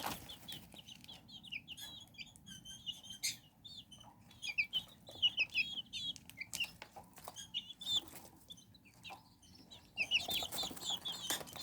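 Pheasant-chicken hybrid chicks, bred from a pheasant, a chicken and an ornamental chicken, raised in a brooder. They keep up soft, fairly close peeping and chirping with scattered faint rustles and flutters.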